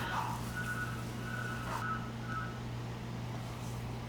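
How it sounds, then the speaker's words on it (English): Faint, steady electronic beeps repeat at an even pace over a constant low hum, like a vehicle backing up somewhere off in the distance. "I'm so sorry about that beeping noise."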